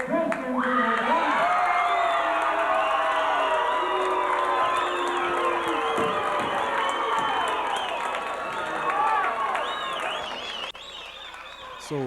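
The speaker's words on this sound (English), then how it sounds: "Pretty unhappy crowd, but good match by both men." A crowd at an amateur boxing match reacts to a close judges' decision with loud, sustained cheering, whoops and scattered applause that fade slightly near the end, with a commentator talking over it.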